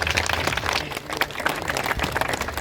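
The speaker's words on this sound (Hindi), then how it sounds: "मैं चाहूंगा एक बार जोरदार ताली होनी चाहिए" Audience at a Mamta Charitable Trust event applauds loudly and steadily, a dense wash of many hands clapping together with no break.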